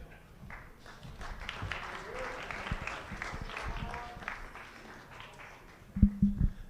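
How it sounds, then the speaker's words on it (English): An audience at a university athletics town hall applauding a panel: sustained, fairly soft clapping from a crowd, ending with a few louder, nearer thumps. "If you guys give a round of applause for our second panel"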